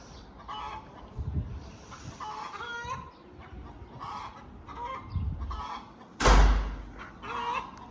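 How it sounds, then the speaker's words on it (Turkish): Chickens and fowl clucking and calling in short repeated bursts outdoors, with a brief loud rustle or thump near the end; no talking. "Şurada bir tavuklar var"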